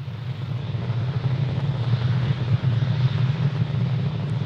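A SpaceX Falcon 9 rocket roars in flight after clearing the tower, a loud, steady, deep rumbling drone with no pauses.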